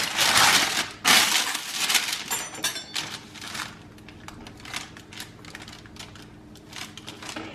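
A knife saws through a large caramel chocolate chip cookie, giving dense crunchy crackling and crumbling scrapes in bursts that ease into lighter, softer crunches, close up with no talking.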